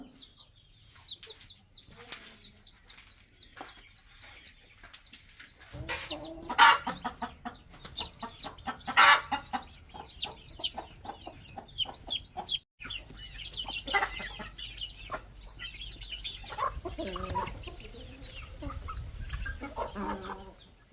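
A hen clucks repeatedly in short bursts, growing louder partway through, amid rustling and farmyard background noise; no talking.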